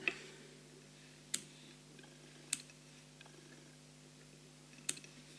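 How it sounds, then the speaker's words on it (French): Small scissors trim excess thread on a fly-tying hook, giving a few crisp, isolated snips spaced a second or more apart, close and quiet against a faint steady hum. "Je vais prendre ma petite paire de ciseaux, je vais couper tout l'excédent."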